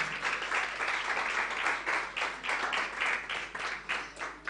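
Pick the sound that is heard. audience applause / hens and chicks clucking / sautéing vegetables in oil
audience applause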